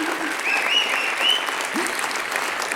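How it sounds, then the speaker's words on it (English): An audience at the EAT Stockholm Food Forum breaks into sustained applause, a dense, even wash of many hands clapping throughout, with no voices standing out. "Can I please another round of applause"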